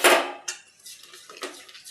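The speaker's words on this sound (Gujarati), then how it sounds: "આવી રીતે બધું મિક્સ કરીને આવી રીતે હલાવતા રહીશું." A raw mango jelly mixture stirred in a pan, with a sharp metal clank of spoon on pan followed by a few lighter scraping strokes, close and brief.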